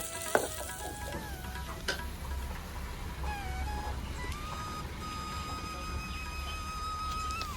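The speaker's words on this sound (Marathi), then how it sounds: "लसूण आणि मिरची तेलात थोडीशी परतल्यानंतर यामध्ये बारीक कापून घेतलेला कांदा घालायचा आहे कांदासुद्धा आपल्याला व्यवस्थित शिजवून घ्यायचा आहे" Chopped onion fries in oil with garlic and green chili, giving a steady sizzle with a few sharp utensil clicks early on and faint beeping tones in the background.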